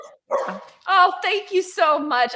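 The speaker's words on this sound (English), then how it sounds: "Sorry about the dog in the background." A dog barks in the background during an interview, giving several sharp yips and barks mixed under a woman's close, clear speech.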